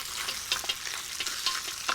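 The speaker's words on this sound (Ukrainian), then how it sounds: "Він вже розігрітий, шкварчить. Ви чуєте як?" Steady, close frying sizzle of pork brisket and ribs in a heated cauldron, with crackling pops scattered through it, continuous and fairly loud, no voices.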